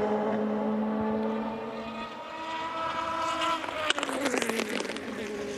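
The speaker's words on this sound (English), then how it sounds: "Snap, crackle and pop from the exhaust notes." A sports prototype race car at the 2017 Mobil 1 SportsCar Grand Prix qualifying session drones steadily, then its exhaust crackles and pops in quick irregular bursts as the engine note changes, fairly near.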